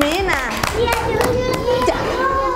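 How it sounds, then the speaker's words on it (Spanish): Children in a class applaud a classmate, scattered hand claps mixed with children's voices and a speaking adult close by. "Le damos un aplauso entonces a la Jimena"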